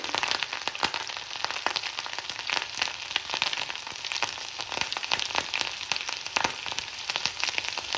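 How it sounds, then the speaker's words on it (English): Ginger and chili frying in hot oil for a capsicum and gram flour sabzi give a steady, dense sizzle with crackling pops throughout, close and fairly loud, with no talking. "When the oil is hot, I'm going to first add the ginger and chili and just let it fry for a minute."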